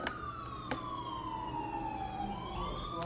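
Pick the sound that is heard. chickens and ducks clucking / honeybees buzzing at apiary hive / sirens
sirens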